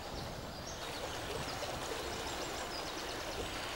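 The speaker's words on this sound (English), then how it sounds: "Got a stream to the right there running into this river." A small stream runs into a river along the Brampton Valley Way, giving a steady, even rush of flowing water heard from nearby, with a hint of a distant bird.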